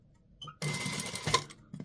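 A sewing machine runs in a short burst of rapid stitching along a garment neckline, close and moderately loud, with a few small clicks before and after.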